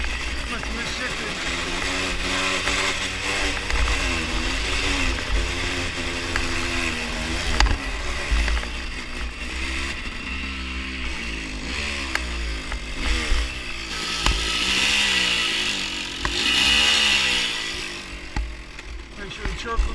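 An enduro motorcycle engine on a dirt trail at Hungry Valley near Gorman, California, drones and bogs unevenly with revs rising and sagging, while a rider talks throughout.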